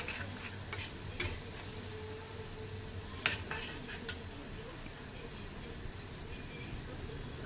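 Amla and fenugreek pickle pieces fry in hot oil with asafoetida, giving a steady soft sizzle while a spoon stirs and clinks against the pan now and then, with a voice talking over the cooking.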